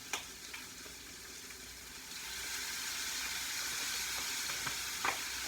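Shrimp cook in a pan with a splash of lemonade juice, giving a steady hissing sizzle that swells and holds, broken by a few light utensil taps, and no talking.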